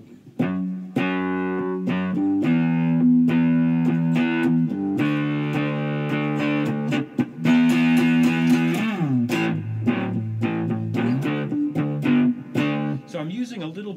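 A three-string cigar box guitar plays a blues riff through a reverb effect with some palm muting, its notes ringing out continuously and loud in the foreground.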